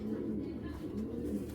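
A male triple-patti Moyna Dobaj pigeon coos in low, steady, rolling murmurs, close by and continuous, with faint background noise.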